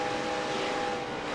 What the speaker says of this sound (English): You could hear her get out of the throttle.